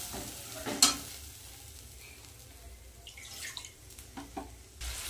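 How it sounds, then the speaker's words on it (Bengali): Quiet sizzling of garlic and spice paste being sautéed in a pan, with intermittent scraping and stirring clatter and a sharp utensil clink early on. "ভালো করে মশলাটা কষিয়ে নেব।"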